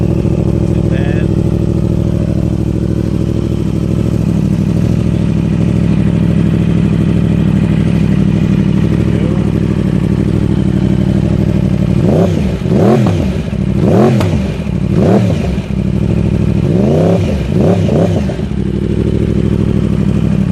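A 2015 Yamaha R1 motorcycle fitted with a Two Bros exhaust and quick shifter idles steadily up close, then fires off a run of four or five sharp, loud revs and quick-shift bursts in its final seconds.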